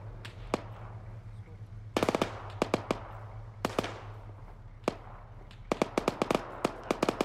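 .50 calibre machine gun fire in Arma 3 during a USMC landing: short rapid bursts and single sharp cracks, at moderate distance over a steady low engine hum.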